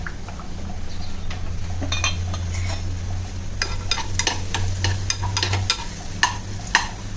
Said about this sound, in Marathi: त्याच्यासाठी मी पॅन ठेवला आहे गॅसवरती लसूण आणि कांदा ऑइल